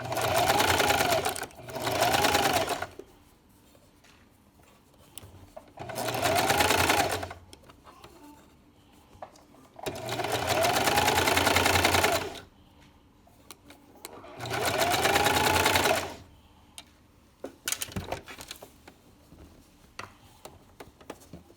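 Sewing machine stitching a baby sleeper, running in five separate bursts of rapid mechanical whirring, each a second or two long, with quiet pauses and light handling clicks between them.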